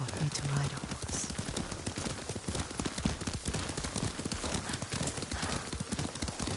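Horse hooves clip-clop at a steady riding pace in the video game Ghost of Tsushima, a dense rhythmic patter under ambient game sound and brief character dialogue.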